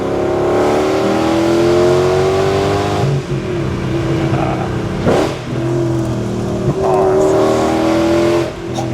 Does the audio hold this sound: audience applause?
no